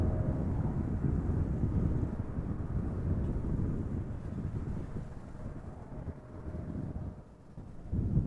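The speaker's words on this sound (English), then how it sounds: "KLM flight 791 taking off from center. 777-300 ER, 11 years old." An 11-year-old KLM Boeing 777-300ER airliner taking off at Amsterdam Schiphol Airport, a steady broad low roar rumbling continuously at a distance, buffeted by wind noise, easing slightly near the end.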